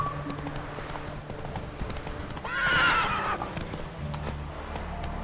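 Roach, a horse in The Witcher 3, gallops in a rapid rhythmic clip-clop, and a loud neigh rises in the middle of the run, over a low background score.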